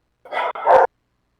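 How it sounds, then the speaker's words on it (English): A dog barks close by in two quick, loud yaps back to back, then there is silence. "And what's with your dogs"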